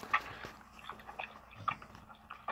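A dog licks and slurps at a phone up close, wet irregular smacking and chewing-like clicks repeating over a couple of seconds, fairly faint with no talking.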